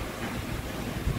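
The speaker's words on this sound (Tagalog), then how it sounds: "Lakas ang hangin" Strong wind with heavy rain: a steady, loud rushing roar fills the whole short stretch and buffets the microphone, with no voices.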